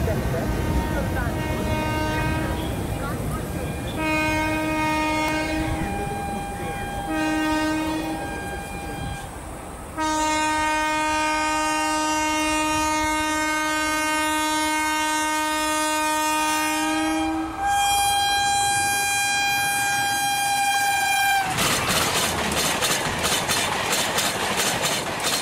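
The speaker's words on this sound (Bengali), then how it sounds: "পরের দিন সন্ধ্যার পর Khulna mail train Sealdah station ছেড়ে দিল।" Khulna Mail train pulling out of Sealdah station, sounding long, loud sustained horn blasts in several bursts over rolling rail noise, with a final sharp shift as the train moves off.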